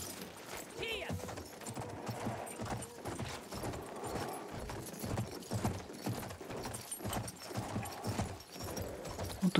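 Horse hooves clip-clop steadily in the Battlefield 1 video game, a dense rhythmic trot amid in-game ambience and scattered noise, at moderate loudness throughout.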